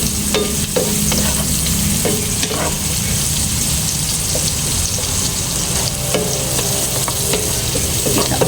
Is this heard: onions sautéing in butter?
yes